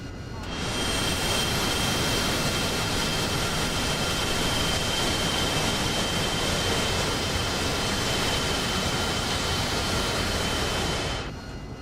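A Chinook helicopter takes off in the flight simulator DCS World. The engine and rotor roar is dense and steady, fading in at the start, holding loud and even, then cutting off sharply at the end.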